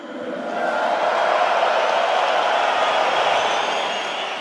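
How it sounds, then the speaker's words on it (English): Arena crowd at a GLORY kickboxing event cheering for Rico Verhoeven, a broad sustained roar of many voices that swells, holds steady, and slowly fades. "Need to know how many people here tonight are cheering for Rico Verhoeven?"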